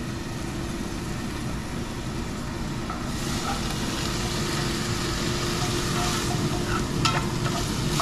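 Onions for homemade sloppy joes cook in a pan, producing a steady, dense sizzle and frying hiss that keeps on without a break, with faint stirring scrapes late on and no talk.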